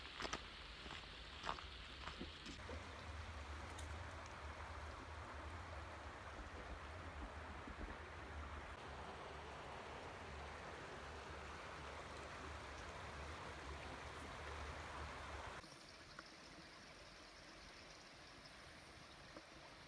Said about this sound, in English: you can hear the strangest sound vibrations coming out of that little bowl where that waterfall is